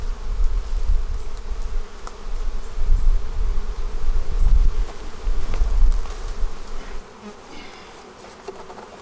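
Honey bees shaken from a bucket into a hive during autumn beekeeping: a dense, loud swarm hum with rising surges of buzzing and scattered thumps, easing toward a quieter drone at the end.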